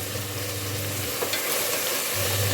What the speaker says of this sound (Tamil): நல்லா எண்ணெய் பிரிஞ்சு வர வரைக்கும் இதை நல்லா வதக்கிக்கோங்க